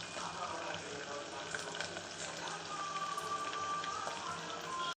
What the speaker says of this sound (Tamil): வெங்காயம் வந்து நல்லா வதக்கணும்.